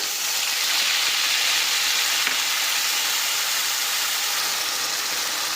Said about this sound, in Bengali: তেলটা আমাদের গরম হয়ে গেছে এবার এই যে বেটে রাখা মশলাটা আমরা এতে দিয়ে দিলাম